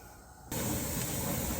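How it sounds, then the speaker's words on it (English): Steam streams steadily from a pressure canner processing chicken bone broth. A faint background hiss swells suddenly into a loud, continuous rushing vent that holds steady. "you can see that stream of steam coming out"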